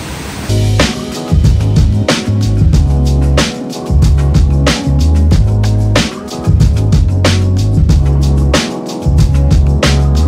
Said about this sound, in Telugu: చాలా పెద్ద వాటర్ ఫాల్ అయితే పడుతుంది.